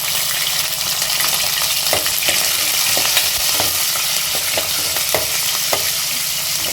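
Chana dal and green chilies fry over a low flame for vegetable upma, making a loud, continuous sizzle with a scatter of sharp spoon-against-pan stirring clicks throughout.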